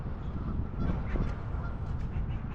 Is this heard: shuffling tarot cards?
no